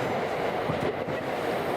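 A train rolls through a station in Tokyo, giving a continuous rumbling roar with rhythmic rail clatter, loud and close throughout.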